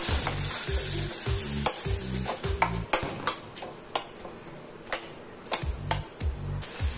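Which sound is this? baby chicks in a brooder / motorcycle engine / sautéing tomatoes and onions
sautéing tomatoes and onions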